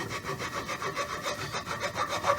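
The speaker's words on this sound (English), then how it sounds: "making it nice and rounded using this round file, which is really the perfect size for this job" A round file rasps back and forth along a truss rod channel cut into a wooden neck-through Telecaster guitar neck, steady rhythmic rubbing strokes, close and continuous with no talking.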